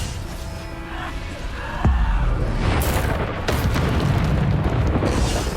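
Bombarda blasting spell in the Hogwarts Legacy video game, a deep booming explosion that breaks out sharply partway through and rumbles on loudly amid a dense mix of combat effects.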